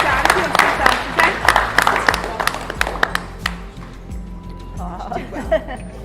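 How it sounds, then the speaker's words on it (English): A room of people gives a guest a big round of applause, lively clapping that fades after a few seconds into scattered claps and a voice talking. "Should we give you another big clap?"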